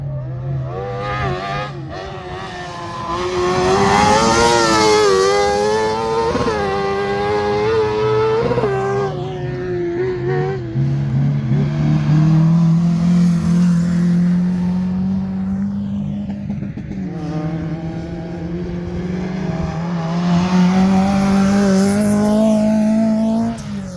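A kartcross car is driven hard around a dirt track at Servilly, its engine loud and revving continuously, pitch rising and falling as it drifts through corners, close and dominant for the whole stretch.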